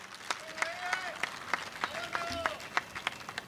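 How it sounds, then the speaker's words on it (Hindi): Audience applause in a lecture hall for disabled cricketer Aamir Hussain Lone at the Vasant Vyakhyanmala lecture series in Nashik, a steady patter of claps with a faint tonal whistle-like sweep above it and some talk underneath. "आमिर भाई के लिए एक और बार ताली हो जाए।"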